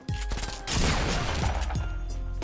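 Gunshots in the Fortnite video game ring out as sharp blasts and then a dense, echoing burst of rapid fire, loud and close.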